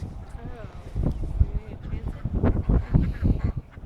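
Ducks quack and honk in a noisy cluster nearby, overlapping calls in uneven bursts, with people talking among them.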